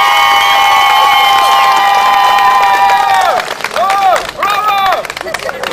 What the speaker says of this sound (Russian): Ваши аплодисменты Ольшанскому поселковому совету